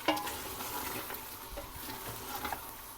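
Mutton and masala being stirred in a pot for biryani, a steady scraping and mixing over a soft sizzle, close and moderately loud with a few sharper clinks of the spoon against the metal.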